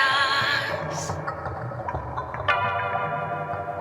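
A song with sustained singing over soft instrumental backing, steady and moderately loud.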